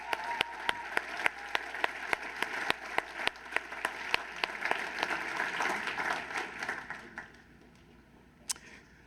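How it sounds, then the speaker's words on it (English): A dinner audience at a friendship gala applauds steadily, a thick wash of clapping with sharp individual claps punctuating it, fading out toward the end with a last stray clap. "Please, let's give them a round of applause again"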